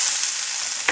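Onions sizzle in a pan, a short burst of steady, bright hissing with a small pop near the end, close and without speech.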